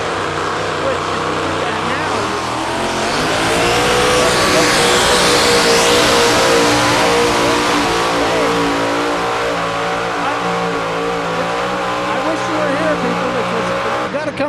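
Truck and tractor pull engine roaring at full power, a loud sustained mechanical blast with harmonic engine drone that swells through the middle and holds steady, crowd and voices mixed faintly underneath.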